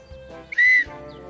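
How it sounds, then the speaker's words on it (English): A single sharp, high whistle blast lasting about a quarter second, loud and close, over quiet background music. "When I blow the whistle,"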